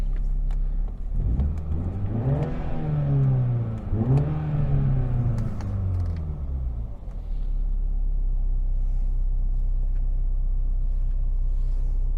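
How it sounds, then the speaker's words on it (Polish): A 2018 MINI Cooper S three-door hatchback with a 2.0 petrol engine, 192 hp, revs up twice in quick succession, rising and falling with a throaty rumble before settling back to a steady idle. "Mamy tutaj piękne brzmienie tego silnika. Prawdziwy rasowy hot hatch."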